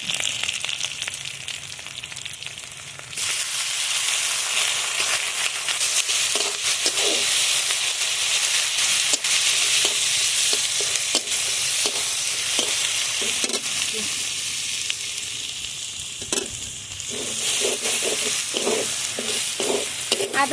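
Onion, ginger and garlic paste fry in hot oil for a duck curry, giving a loud, steady sizzle that swells after a few seconds, with rhythmic scraping stirs across the pan throughout.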